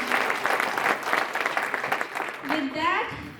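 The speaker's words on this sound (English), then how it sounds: "Once again, a big applause for Snehal." An audience at a Diwali celebration applauds after a performance, with steady, full clapping that carries on under a voice and fades toward the end.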